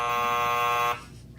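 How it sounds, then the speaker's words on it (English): A buzzer is hit once on a horror talk show, sounding a loud, harsh electronic tone for nearly a second before stopping abruptly, leaving quiet room noise. "That was actually Jim's wife hitting the buzzer there"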